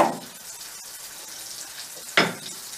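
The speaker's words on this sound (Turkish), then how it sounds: "Bir adet yumurtayı tavamıza kırıyoruz şöyle." An egg cracked into a hot pan crackles and sizzles, with a burst of frying at the start and another sharp sizzle near the end over a soft, steady hiss.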